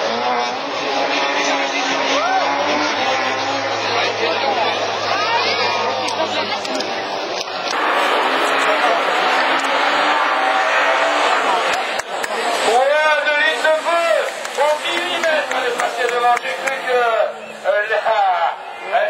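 Super 1600 rallycross cars, including a rear-engined Ford Puma, roar and whine past as they accelerate and shift, with a commentator talking over the noise throughout.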